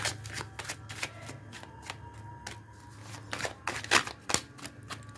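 Tarot cards drawn and shuffled from a deck during a reading, giving repeated crisp papery flicks and riffles in short bursts, close and fairly quiet over a low steady hum.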